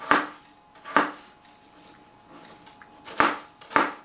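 Knife chopping green tomatoes for chutney on a board, four sharp, close cuts in an uneven rhythm with quiet pauses between.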